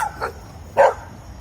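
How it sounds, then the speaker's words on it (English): Dogs barking outdoors in a backyard at night, two sharp barks a little way off with a short gap between them over a quiet background. "Dogs are going crazy."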